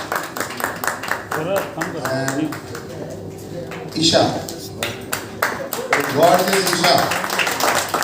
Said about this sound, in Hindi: क्योंकि उसमें ज़्यादा तालियां बज रही हैं और लड़के ज़्यादा बजा रहे हैं